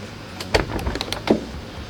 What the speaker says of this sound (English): whenever you open the door, it's a pretty cool thing